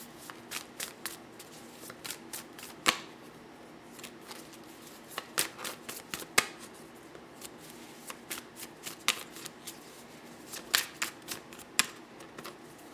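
Tarot cards being shuffled by hand, giving repeated crisp riffling bursts and soft flicks in an irregular rhythm, close and fairly quiet, with no talking.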